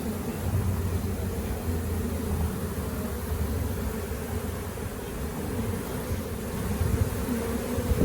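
A honeybee swarm hums steadily around a new hive near a fig tree, a dense, continuous buzz of many bees close by with no voices over it.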